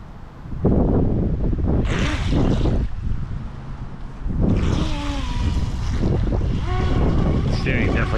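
A DEERC brushless remote control boat runs on a pond with a steady motor whine that rises and falls as it turns, carried under wind rush and water noise, with a voice briefly audible.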